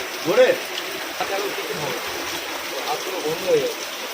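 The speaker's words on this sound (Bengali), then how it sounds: "ওর ভিতরে জল পড়ছে জল পড়ছে" Rainwater pours through a hole in a shop roof, a steady splashing hiss filling the background while people talk nearby.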